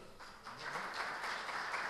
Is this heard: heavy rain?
no